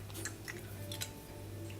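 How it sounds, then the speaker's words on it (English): Crunchy food chewed close to the microphone, a few crisp crackling bites over a steady low hum. "Stop crunching in my fucking ear!"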